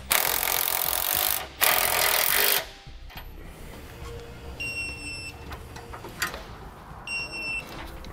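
A wrench tightens the nylon lock nuts on a Roadmaster rear anti-sway bar fitted to a 2014 Mercedes-Benz. Two loud, harsh rasping bursts come first, followed by quieter scattered clicks and a few faint high beeps.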